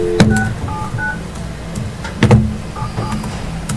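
A phone is dialed during a board meeting, producing short tone beeps in a few separated bursts, with clunks and handling knocks between them and no speech over it.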